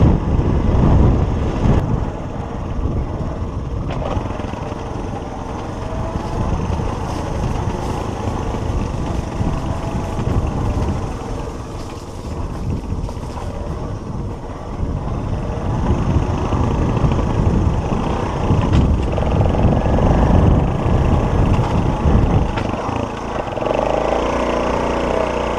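A Honda CT90 motorcycle engine runs steadily close by for the whole stretch, its low, continuous drone shifting slightly in pitch as the bike works up through its gears.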